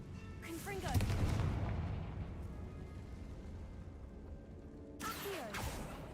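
A Confringo blasting spell goes off in the Hogwarts Legacy video game, a heavy booming explosion with a rumbling tail, followed moments later by a second sharp burst, close and loud over a low background.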